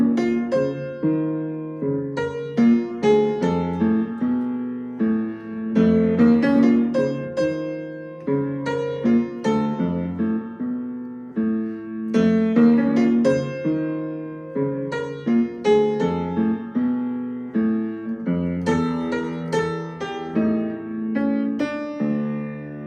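Solo jazz piano plays a tune with both hands together, the left hand laying down chords beneath the right-hand melody in a continuous, moderately loud passage with no talking.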